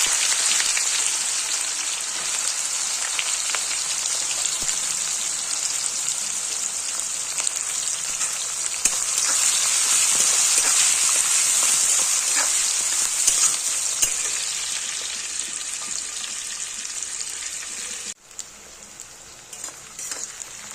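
Chopped onions fry in hot oil with whole cumin, whole garam masala, dried red chillies and bay leaves for chicken kosha, giving a continuous loud, rain-like sizzle that holds steady throughout, with a brief dip near the end.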